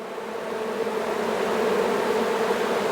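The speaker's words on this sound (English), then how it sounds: "These bees are flying in." Honey bees buzz steadily as they fly in at the hive entrance, a dense, continuous hum from a crowd of insects close by that holds even and grows slightly fuller.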